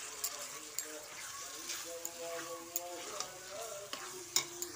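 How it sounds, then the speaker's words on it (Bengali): Mashed cabbage and vegetables are stirred with spices in a hot oiled pan, giving a soft steady sizzle broken by repeated sharp scrapes and taps of the spoon, with some speech over it. "সবজিটা দিয়ে একটু মশলার সঙ্গে ভালো করে মিশিয়ে দিচ্ছি।"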